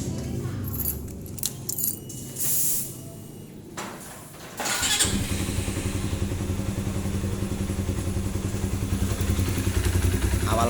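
A motorcycle being checked for a faulty ECM is fiddled with amid clicks and clatter, then its engine catches and settles into a steady, close idle with a rapid even putter.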